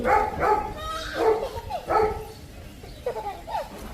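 Dogs bark in several close, loud bursts, with yips and whimpers between them that fade toward softer calls.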